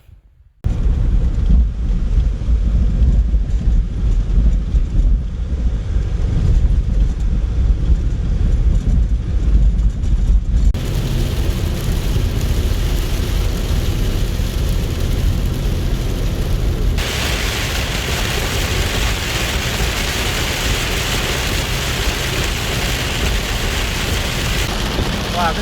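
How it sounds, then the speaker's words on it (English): Heavy rain pours down on a two-wheel-drive-accessible road in canyon country in Utah and Arizona, a loud, dense, unbroken roar mixed with wind buffeting that runs the whole length. "this is crazy the amount of rain that's coming down here"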